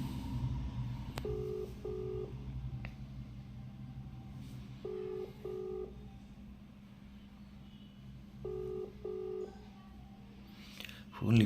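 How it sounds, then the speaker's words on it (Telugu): A phone video call rings out in repeated paired electronic tones, three cycles spaced evenly over steady background noise and distant traffic rumble. "ఒకసారి వీడియో కాల్ చేద్దాం, ఎత్తాడు లేదో"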